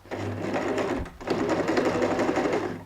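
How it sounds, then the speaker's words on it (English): Sewing machine stitching the lining of a quilted cross-body messenger bag, a close rapid mechanical whir that pauses briefly near the middle and then resumes. "sew from here somewhere till halfway through."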